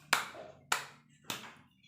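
Three sharp, separate hand claps ring out close and clear in a slow, even rhythm, each one fading quickly, during an online elementary school class counting exercise.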